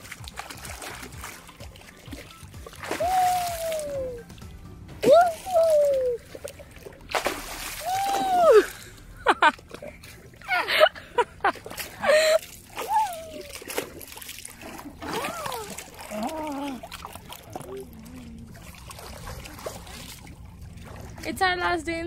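Water splashes intermittently in cold Lake Brienz, Switzerland. The bursts are close and irregular, heard among voices and playful vocal sounds.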